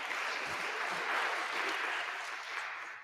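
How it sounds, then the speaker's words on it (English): Steady applause from a modest audience at a community engagement forum fills the room, a dense patter of clapping that holds throughout and eases slightly toward the end. "let's give them a round of applause"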